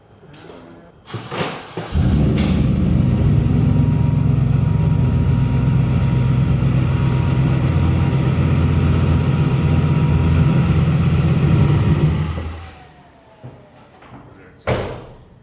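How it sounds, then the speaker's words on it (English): A pickup truck's engine runs steadily inside a large 30x50 home workshop as the truck is moved, a loud low rumble lasting about ten seconds, preceded and followed by door thuds. "I had to move the truck obviously"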